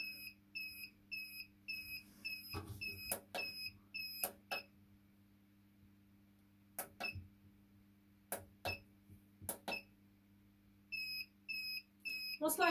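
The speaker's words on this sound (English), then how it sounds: "Most likely it's keep gonna beep while it's going down." A record pressing machine lowering during a test pressing gives short repeated electronic beeps in bursts, close and quiet, with a steady low machine hum and occasional clicks and knocks between them.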